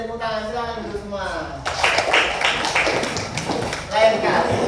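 A class of children claps together in a burst of hand claps, following a teacher's voice and mixed with chatter, fairly close and lively in a classroom.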